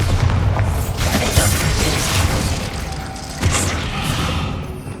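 Bombarda spell blasts in Hogwarts Legacy, two heavy booming explosions with rumbling, crashing debris, loud and close, the second burst arriving a couple of seconds after the first.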